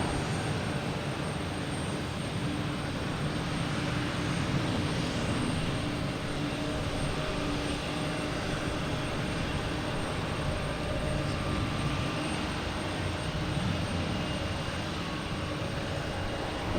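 An American Airlines airliner passes Boston Logan Airport with a continuous, even jet rumble and hiss that holds at a steady moderate level, heard from some distance with no voices.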